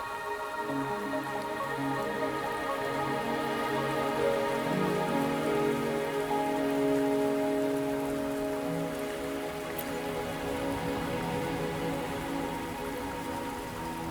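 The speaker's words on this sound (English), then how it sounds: "Are you trapped here by the rain?" Steady rain falling across a video game scene, a continuous even patter on surfaces that holds at the same level throughout, with sustained musical tones in the background.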